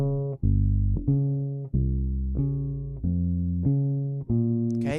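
A bass guitar plays a slow string-switching exercise using the pinky and pointer fingers, with six or seven distinct plucked notes, each sustaining and decaying before the next, clear and close with no talking.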